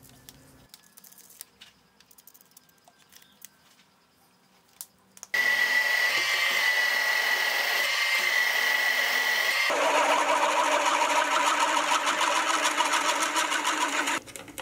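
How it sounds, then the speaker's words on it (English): A milling machine drills a hole in a bracket for a depth-stop rod on the quill. A few quiet clicks come first, then a loud steady mechanical whir starts abruptly and runs to the end, shifting tone partway through. "I'll mark out and drill the hole for the depthing rod."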